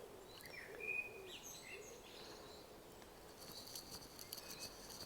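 Dawn chorus of several birds singing in a cemetery, chirps and whistled phrases overlapping at moderate distance over a soft outdoor hush, with insect-like buzzing in the background.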